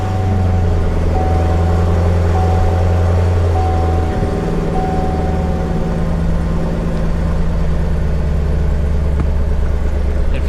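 A Chevrolet Cobalt SS fitted with a ZZP performance exhaust runs at a steady idle, its deep, even exhaust drone loud and close throughout with no talking.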